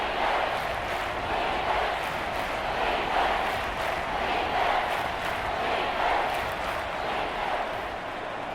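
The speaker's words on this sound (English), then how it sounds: "The crowd getting into it as we come up on a big 3rd down." Stadium crowd in an American football video game, Buccaneers versus Saints, roars steadily and loudly ahead of a big third down, a dense continuous cheer with no talk over it.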